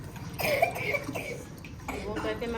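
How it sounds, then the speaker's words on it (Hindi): Someone who is ill coughs several times in a close, indoor setting, the rough bursts mixed with voices talking. "खांसी आ गई उसको।"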